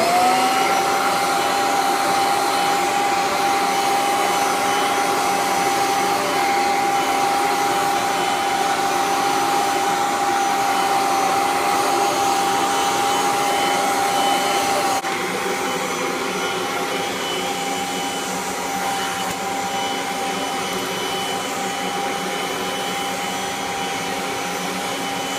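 A Kirby Avalir vacuum cleaner runs in canister mode, giving a loud, steady motor whine that holds throughout, with a slight drop in pitch and level partway through.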